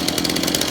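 A chainsaw weighing a little over 9 kg, used for cutting firewood in winter, drones steadily and loud at close range in a brief continuous burst with no voices.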